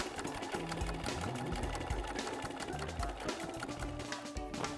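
A sewing machine runs in steady bursts, topstitching the sides of a fabric pie carrier, its rapid needle clatter close and continuous, with brief pauses between runs.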